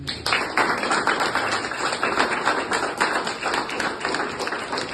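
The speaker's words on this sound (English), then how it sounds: "can we just clap for our police" An audience at an International Women's Day breakfast with Lambeth Police claps for the police, a steady patter of many hands close by lasting the whole stretch.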